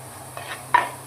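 Ginger, garlic and curry leaves drop into hot oil with popped mustard and fenugreek seeds, giving a soft sizzle and two quick scraping stirs of a spoon in the pan, close and quiet.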